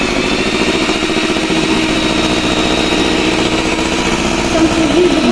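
An electric mixer whirs loudly and continuously, beating lemon cake batter at rising speed with a steady motor drone throughout.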